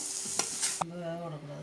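Drumstick (moringa) leaves sauté in a pan with a steady close sizzle, broken by a few sharp clatters of stirring and a spatula knock before the frying settles into an even hiss.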